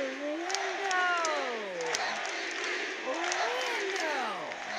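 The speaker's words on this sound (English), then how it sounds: "Listen to the crowd." A cartoon crowd roars and cheers after a win, loud massed shouting with rising and falling voices that swell and dip across the moment.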